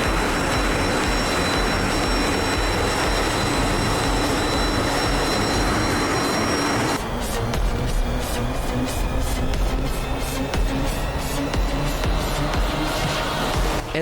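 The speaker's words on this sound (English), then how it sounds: "carry out these slow wing overs to reposition the aircraft to avoid the aircraft stall" Aircraft engine drone from a virtual air show as a plane flies slow wingovers, a steady loud roar throughout that shifts character midway, with no voices.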